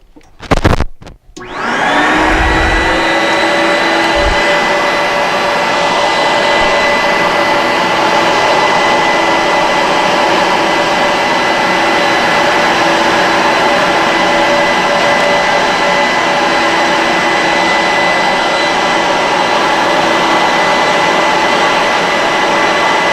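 A Hydro X VacPac extractor pulling water from saturated carpet starts up after a few brief knocks, then settles into a loud, steady high-pitched vacuum whine that holds unbroken for the rest of the stretch.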